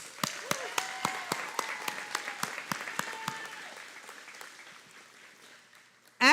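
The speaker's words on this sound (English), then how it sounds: "Let's give a big round of applause to our 2024 pioneers." Applause for the 2024 graduates at a Pioneer Technology & Arts Academy graduation ceremony, a crowd clapping with sharp individual claps standing out, gradually thinning and fading over several seconds before a brief loud burst at the end.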